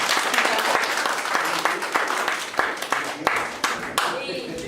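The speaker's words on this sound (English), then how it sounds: "Give him a big round of applause." An audience breaks into loud applause with sharp individual claps standing out, fading somewhat toward the end, while a voice is faintly heard under the clapping.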